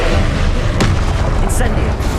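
Hogwarts Legacy's Confringo blasting spell goes off in one sharp, punchy explosion partway through, standing out against a constant loud game soundscape.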